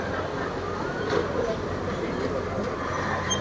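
An amusement park train ride at the Canadian National Exhibition rolls along steadily, giving a continuous close rumble and rattle of wheels and cars with faint fairground noise behind.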